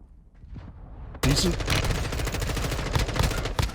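Rapid automatic gunfire from an M4 and a Vasnev in Call of Duty: Modern Warfare 2 Warzone 2 solos bursts in suddenly after a quiet start and rattles on loudly and continuously to the end.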